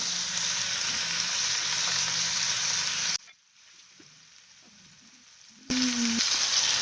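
Chopped tomatoes sizzle loudly in hot oil, a steady close frying hiss that cuts out abruptly midway to a near-silent gap before the sizzling bursts back in.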